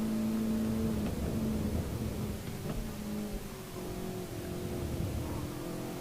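A Toyota Supra race car engine in a racing video game drones steadily at low volume, with a faint rise and fall in pitch and no voices over it.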